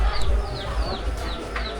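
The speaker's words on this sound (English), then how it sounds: "Chickens are just chilling." Chickens cluck in short, repeated calls outdoors in a foreign village, close and fairly loud, over a rumbling background.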